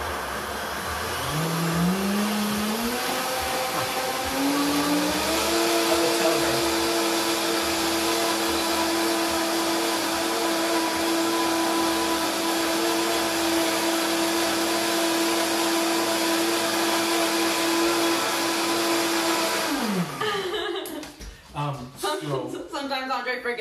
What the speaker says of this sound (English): I am going to go ahead and blend up this hummus so that we can get it all ready.